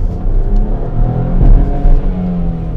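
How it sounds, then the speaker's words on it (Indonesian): A BMW 218i Gran Coupé with a dual-clutch gearbox accelerating on an open road, its engine a loud, rising cabin hum and whir that swells steadily, no one speaking. "sekarang di depan kita ada rute yang lumayan kosong, kita mau coba akselerasi"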